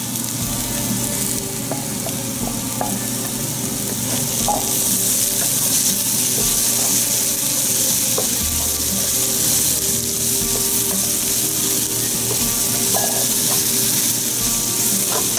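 Green peppers sizzle steadily as they fry in an oily masala for paneer and mixed vegetable shahjahani, with a spoon stirring and scraping through the pan, the loud continuous hiss filling the whole stretch without talk.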